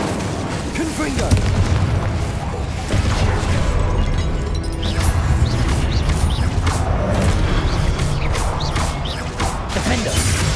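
The Confringo blasting spell in Hogwarts Legacy: heavy, continuous booming and crashing blasts with a dense low rumble, while a person talks over the noise.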